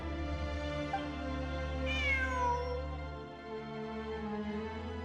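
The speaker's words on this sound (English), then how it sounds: "It really is a cat." A cat meows once in the Genshin Impact video game, a clear rising-then-falling call standing out over steady game music and ambient tones.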